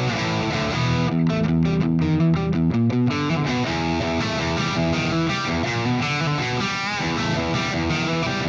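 An electric guitar played through a Dyna-Cabs amp and cab with a London plate reverb rings out in distorted chords and a quick choppy rhythmic passage, loud and sustained, the reverb tail filling out the tone.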